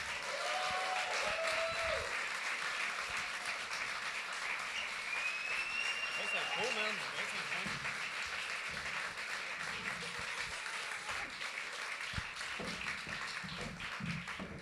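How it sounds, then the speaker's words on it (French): Audience applause for podcast guests at a live podcast festival show, a sustained wash of clapping held steady for the whole stretch, with a few voices and whistles mixed in. "J'aimerais ça qu'on donne une bonne main d'applaudissements à Mick d'Horreur Podcast Québec et Terreur"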